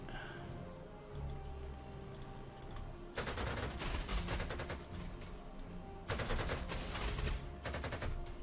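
Two bursts of rapid gunfire from an attack in Panzer Corps 2, dense crackling volleys that rise sharply over a low background hum, loud and close, with no talking.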